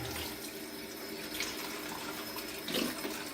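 Water pours from a container into a pot of homemade chicken stock with carrots and celery in an Instant Pot, a soft continuous trickle and splash, fairly quiet, in a kitchen.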